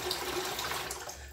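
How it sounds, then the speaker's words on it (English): Tap water running steadily into a sink while shaving, a close, continuous splashing hiss for a brief moment. "Should put some more water in the sink so I can dunk this."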